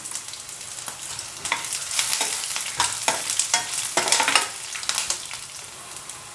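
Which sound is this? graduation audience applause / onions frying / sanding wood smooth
onions frying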